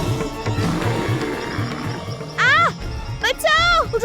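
A bear gives two short, loud roaring growls with rising-falling pitch, heard over frantic shouting and background music in a tense rescue scene.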